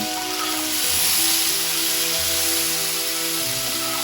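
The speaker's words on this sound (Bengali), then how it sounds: "ফুলকপিটা আমি দেখেন লাল লাল করে ভেজে নিচ্ছি" Cauliflower pieces with a little turmeric frying in hot oil in a pan, giving a loud, steady, close sizzling hiss that carries on without a break and with no talk.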